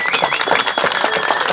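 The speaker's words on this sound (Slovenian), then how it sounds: "en aplavz še ponovno prosim za vse, ki so imeli prste zmes" Crowd applause at the opening of a new skate park in Domžale, steady dense clapping from many people with a faint whistle-like tone running through it, fairly loud throughout.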